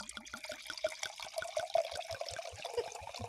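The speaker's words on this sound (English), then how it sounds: "we'll pour at the same time" Liquid poured from a bottle, a steady trickling splash lasting a few seconds, close and fairly quiet, with no voices over it.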